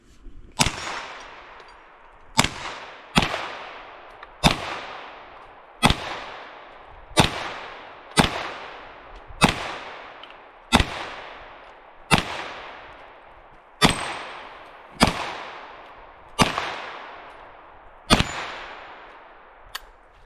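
A Marlin Camp 9 9mm carbine firing twelve loud, sharp shots at a slow, fairly even pace, each crack ringing out briefly into the open air before the next.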